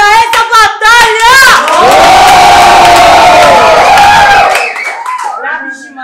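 Loud crowd cheering and shouting with clapping at a women's rap battle event in Brazil, a sustained roar that swells after a sung or chanted line and fades at the end.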